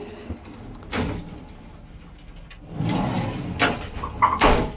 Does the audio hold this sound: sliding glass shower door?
yes